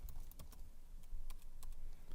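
Fast, light keystrokes clatter on a computer keyboard while a network switch is being configured, with irregular taps and small bursts close up in an otherwise quiet room.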